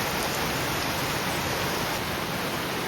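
Heavy rain pours down during a flood, a dense, steady hiss that stays constant and loud throughout with no pauses and no voices.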